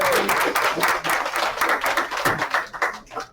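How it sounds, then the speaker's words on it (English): A small audience at a poetry group gathering in North Charleston, South Carolina claps with sharp, distinct hand claps that overlap into brief, lively applause before thinning out near the end. "So please give yourselves a round of applause."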